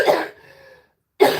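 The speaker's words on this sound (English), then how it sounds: "When I cough like that, I get dizzy." A woman gives a single sharp cough up close, followed by a short rasping exhale and a pause, then a second burst of coughing right after.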